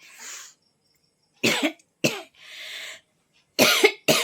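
A sick person with fever and body pain coughs in several harsh, close bursts separated by silent pauses, with one softer throat-clearing sound in between.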